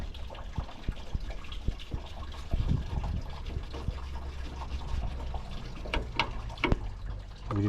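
Liquid drains and trickles out of a Nissan Qashqai 1.5 dCi diesel engine during a timing-belt job. It runs as a steady wet spatter close by, with scattered clicks and knocks from work on the engine.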